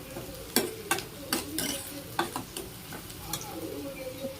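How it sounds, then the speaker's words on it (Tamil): Onions for chow chow kootu sauté in a pan, with a soft sizzle broken by a few sharp spatula taps and scrapes, close but fairly quiet. "வெங்காயம் கொஞ்சம் வதங்கட்டும் ரெண்டு நிமிஷம்"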